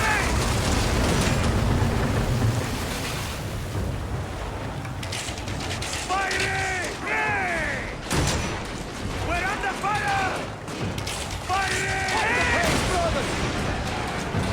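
A warship fires on an enemy barge in the Assassin's Creed Origins naval battle, with heavy rumbling blasts and bursts of explosion noise while voices shout over the din.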